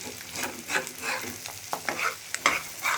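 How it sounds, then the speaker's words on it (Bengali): Fish belly pieces and potatoes fry in a pan, giving a close sizzle broken by repeated scraping stirs and sharp crackles, with no voices. "আজকে আমি রান্না করছি মাছের পেটি দিয়ে আলু দিয়ে ভাজা ভাজা করছি"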